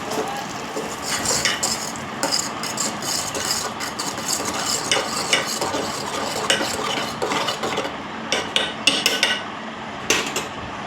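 Dal stirred in a pot, continuous close scraping and clinking of a spoon against the metal, busy and steady over a low background hum, with no one talking.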